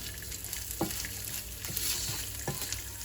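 Goat meat and rice for a pilau being stirred and fried together in a pan, with a steady sizzle and a few scraping strokes of a spoon. No one speaks.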